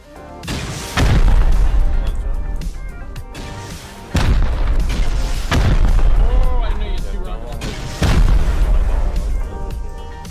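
Rocket explosions in the video game Rust during an online raid on roof campers, three heavy booming blasts spaced a few seconds apart, each followed by rumbling debris, loud and close with game sounds around them.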